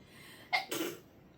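One quick, soft sneeze, a short two-part burst over faint room hiss, fairly quiet and close.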